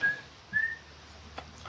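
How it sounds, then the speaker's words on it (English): A person whistles two short, thin, high notes in quick succession in a quiet room, followed by a faint soft click. "Forgot the whistling."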